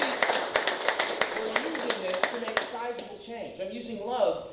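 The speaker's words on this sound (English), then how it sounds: "Can we get a round of applause for that?" Audience applause at a motivational talk, a burst of clapping from the crowd that fades over a few seconds as people talk and cheer over it.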